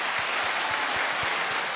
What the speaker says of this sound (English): Clap for the man.